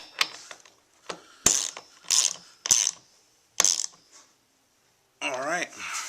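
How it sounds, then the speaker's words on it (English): A 13mm socket ratchet torques racing seat bolts, giving several short, sharp clicking bursts close up with quiet gaps between them, followed by a brief human voice at the end. "grab your 13mm socket and you can torque these bolts down"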